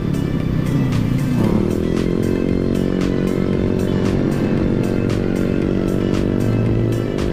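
Honda Click and NMAX motorcycles riding alongside, their engines droning loudly and close with a steady revving pitch, one swelling as it accelerates near the start.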